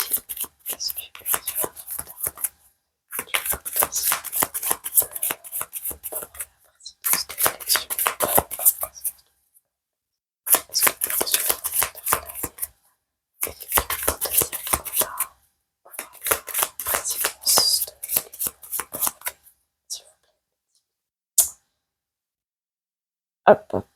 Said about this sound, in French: Laissez-moi battre mes cartes.